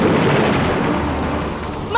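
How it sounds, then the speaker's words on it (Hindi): Heavy rain and a thunderstorm, a loud dense roar of downpour with deep rumbling thunder throughout, steady and close. "भयानक बारिश और तूफान में दुबकी यहाँ क्या कर रही है?"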